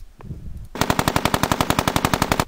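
Raw machine-gun burst captured on a camera microphone: after a short stretch of faint room noise, a rapid, evenly spaced string of about twenty sharp, close, loud shots that sound thin and unprocessed.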